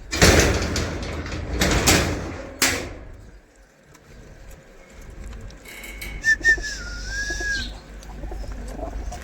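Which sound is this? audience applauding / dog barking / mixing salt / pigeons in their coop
pigeons in their coop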